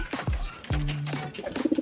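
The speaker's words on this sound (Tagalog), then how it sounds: "Ayan, pang agaw sila mga kalapatids" Racing pigeons coo close by in a short series of soft, low throaty calls, a few rising and falling hums followed by quicker pulsing coos.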